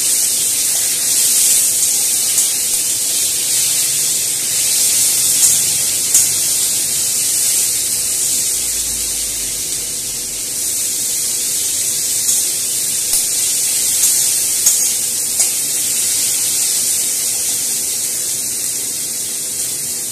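Chopped tomato hits hot oil tempered with five-spice, bay leaf and dried chili, giving a loud, steady, bright hiss of sizzling that runs unbroken throughout.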